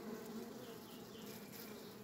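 A steady, continuous buzzing of many honeybees at an apiary hive, a dense low hum that holds at an even level throughout without a break.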